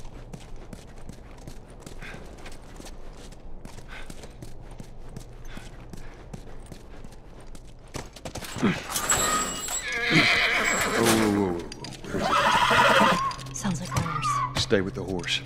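Horse hooves clip-clop and a horse neighs in the video game The Last of Us, soft steady hoofbeats first, then louder whinnies and snorts rising up close in the second half, with voices talking in between.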